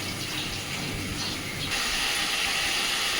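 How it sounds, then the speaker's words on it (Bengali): Chicken pieces sizzle and hiss steadily in a pan while being fried down for a dhaba-style chicken curry, a continuous close frying sound with no voices. "দেখুন আমি বেশ সময় ধরে চিকেনটাকে একটু কষে নিয়েছি।"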